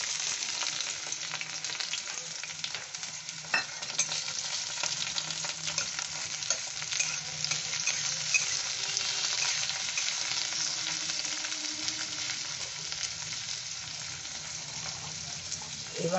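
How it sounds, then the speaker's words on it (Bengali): Onion and green chilli frying in mustard oil in a wok, a steady, dense sizzle and crackle running throughout with occasional stirring scrapes, close and alone with no voices. "কড়াইতে আমি সর্ষের তেল দিয়ে দিয়েছি, এই যে সর্ষের তেল দিয়েছি, আর এর মধ্যে পেঁয়াজ আর কাঁচা লঙ্কা ফোড়ন দিয়ে দিচ্ছি"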